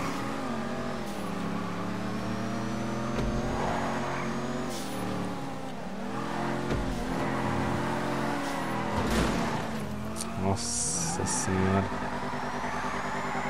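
Classic sports cars race in GTA V Online, engines droning and revving steadily throughout with shifting pitch as the cars accelerate, while someone talks over the racing noise.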